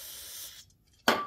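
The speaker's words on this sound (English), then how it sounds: "Just gently just spray it down the flutes and it'll wash all the metal out of it." Brake cleaner hisses from an aerosol can into the flutes of a threading tap for steel, a half-second spray, a brief pause, then a second sharp burst.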